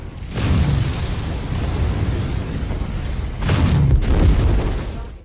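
A medium Hunchback mech fires weapons in the MechWarrior 5 video game, two heavy booming explosions with deep rumbling tails, loud and close, each swelling and fading over a couple of seconds.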